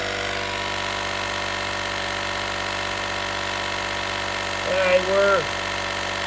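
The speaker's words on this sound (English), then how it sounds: "they couldn't figure out how to operate the air compressor" A Harbor Freight Viking 1000 amp jump pack's 150 psi air compressor runs with a steady, loud mechanical drone, while someone speaks briefly near the end.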